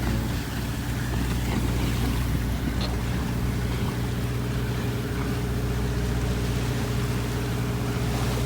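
A sailboat motors under engine power toward a race starting line at night, its steady low engine drone continuous and unbroken with faint water and wind noise over it.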